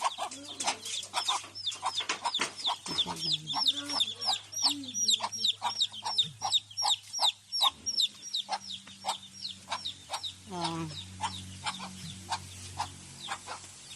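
Busy chicken clucking close by, rapid repeated clucks and squawks over a steady low hum, with a few sharper calls toward the end.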